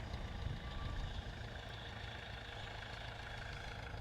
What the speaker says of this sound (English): a beautiful Scammell heavy haulage lorry with a Rolls-Royce Eagle diesel engine